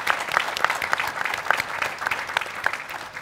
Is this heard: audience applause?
yes